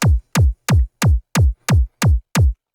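Eight loud, punchy layered happy hardcore kick drums, with a laser-style transient layer and transient enhancement for a clicky attack, hit in a steady evenly spaced sequence, each booming hit dropping in pitch and cut off by a short silence.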